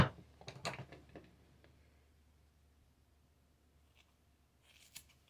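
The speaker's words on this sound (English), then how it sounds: "these are the best scissors that I had at home" Household scissors snip through hair in a quick cluster of crisp cuts near the start, then a quiet pause and a few faint clicks later.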